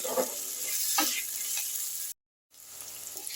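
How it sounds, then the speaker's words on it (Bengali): Spices and papaya sizzle steadily in a pan for a Bengali papaya ghonto, a continuous frying hiss that cuts out briefly to silence and then returns. "আরও 2 মিনিট আমি মশলাগুলো সব একসঙ্গে কষে নিলাম"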